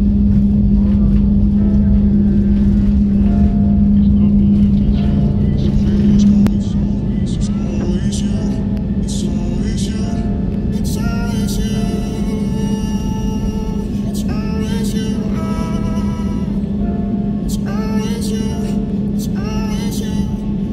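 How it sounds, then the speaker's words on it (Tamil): A passenger airplane taking off on time, with a loud, steady engine roar and a low droning hum that eases slightly partway through. Voices talk underneath throughout. "ஸோ ஃப்ளைட் பார்த்தோம்னா ஆன் டைமில் டேக் ஆஃப் ஆகுது."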